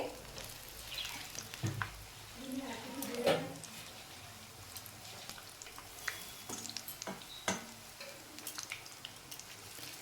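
Cauliflower pakoras fry in hot oil, a low, soft sizzle with scattered crackles and a few clinks from stirring, fairly quiet throughout.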